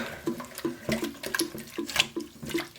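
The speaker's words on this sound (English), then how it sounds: "So we want to wash this now, wash any remaining buttermilk out" Homemade butter is rinsed in cold water to wash out remaining buttermilk, giving soft, close sloshing and splashing squelches in a quick irregular rhythm, quiet overall.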